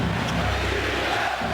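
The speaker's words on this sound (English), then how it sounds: "The chant of defense from this capacity crowd of the Garden" A capacity basketball crowd at Madison Square Garden chanting for defense, a loud, rhythmic massed chant filling the arena during a Knicks–Bulls game.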